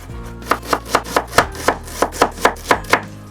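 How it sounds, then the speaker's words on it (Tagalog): A knife chops garlic and onion into small pieces on a cutting board, with about a dozen crisp, evenly spaced thuds close by and no voices. "Ihanda na rin ang bawang at sibuyas. Hiwain lang ang mga ito ng maliliit na piraso."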